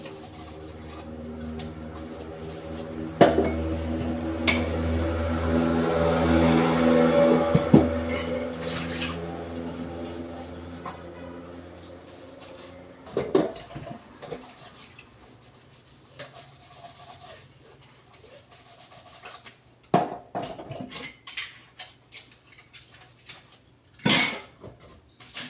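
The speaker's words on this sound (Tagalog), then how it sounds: "Umabot ng sa paghuhugas ng pinggan." Dishes, pots and pans are washed by hand, with close scrubbing and rubbing, a running-water wash early on, and scattered clinks and knocks of dishware as pieces are set down.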